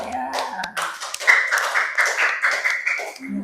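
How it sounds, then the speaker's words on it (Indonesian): Schoolchildren in a fourth-grade classroom clap for a presenting group, a brief burst of rhythmic hand claps and taps mixed with young voices and chatter, fairly close and lively throughout. "tepuk tangan untuk kelompok 1"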